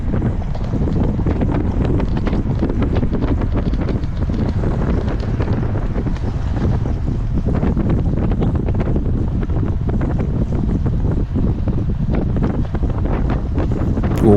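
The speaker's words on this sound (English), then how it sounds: "So when it's windy like this, you got to be close." Steady, heavy wind buffeting the microphone while cycling, a constant low roar with gusty rumbles and no voices.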